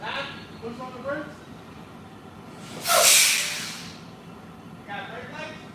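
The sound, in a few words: truck air brakes hissing when brakes are pushed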